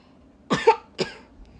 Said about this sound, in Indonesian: Adanya lagi batuk guys,